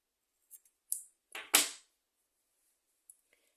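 A few short, crisp snips of scissors cutting the yarn on a crocheted rugby-ball keychain, close and quiet, set in near silence with a faint tick near the end.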